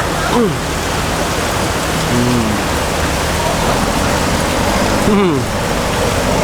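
Steady heavy rain with rushing river water fills the scene in Ayutthaya, Thailand, and a few tonal engine whines from passing boats rise and fall through the downpour.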